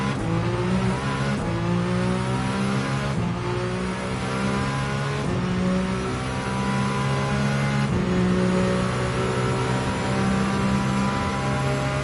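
A hypercar engine in the Gran Turismo 7 racing game roars loud and continuous, rising through the revs with repeated gear shifts and faint tyre squeal, alone without talk.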